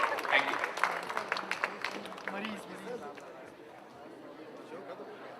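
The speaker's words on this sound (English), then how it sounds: "Can we give him a big round of applause, everybody?" Audience applause for a mentalist at an alumni meet, a dense wash of clapping that starts loud and fades steadily over several seconds, with voices mixed into the crowd noise.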